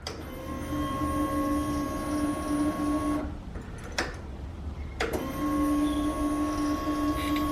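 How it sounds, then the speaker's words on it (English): Fuel pump of a Honda Civic EP3 running, a steady mechanical whine with a constant high tone and broadband hum, interrupted by a brief gap near the middle before resuming at the same level. "I mean, you could definitely hear the fuel pump."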